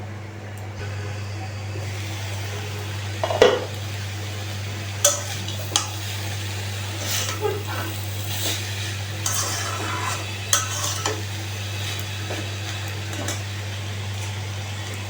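Salted hilsa fish pieces, already fried, are stirred into pumpkin greens in a pan, giving soft intermittent scrapes and clinks of a utensil over a low steady hum and faint sizzle.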